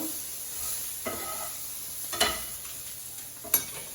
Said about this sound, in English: now again I'm going to give this a quick stir